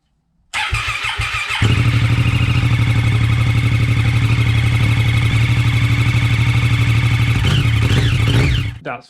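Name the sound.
Daytona motorcycle engine running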